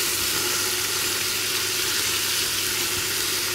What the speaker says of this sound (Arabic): هنشوحهم مع بعض